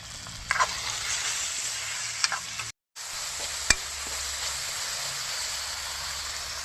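Chopped tomato with salt fries in a hot pan, a steady loud sizzle and hiss with a few stirring scrapes and clinks, briefly cut off once partway through.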